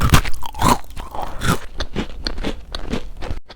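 Close, loud bites and crunches into a salted vegan bread, brittle snaps and crackles repeating in quick bursts with chewing between, no talking.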